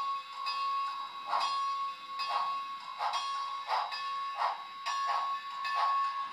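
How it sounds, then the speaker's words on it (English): An HO scale model of Maine Central 2-8-0 steam locomotive #507 rings its bell in a steady, evenly spaced series of bright metallic dings, loud and close over a faint hiss. "This bell is very loud."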